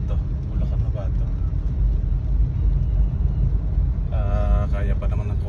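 A car pushes through deep flood water in Malanday, Valenzuela, close enough to nearly reach the floor. A steady low rumble of engine and churning water runs throughout, with people talking over it in the last seconds.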